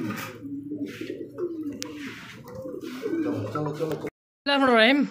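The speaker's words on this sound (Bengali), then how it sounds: "এই যেটা হচ্ছে মাদি কবুতর, এই ডাকতিছে এটা হচ্ছে নর" A male pigeon coos in low, repeated rolling phrases at close range, with someone talking over and between the calls.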